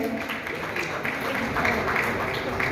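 An audience at a teachers' honour ceremony claps steadily to welcome a school's representatives to the stage, a dense continuous patter of many hands at moderate volume with some voices mixed in.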